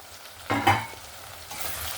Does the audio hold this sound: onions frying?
yes